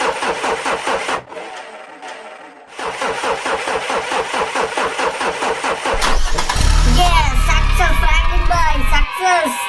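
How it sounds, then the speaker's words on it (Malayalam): A bus engine in the GTA 5 video game cranks with a rapid rhythmic churning, breaks off, cranks again, then catches and settles into a loud rumbling idle, while voices talk over it. "ഇപ്പൊ ഒന്ന് കൂളായിട്ടുണ്ടെങ്കിൽ എഞ്ചിൻ ചിലപ്പോൾ സ്റ്റാർട്ടാവും"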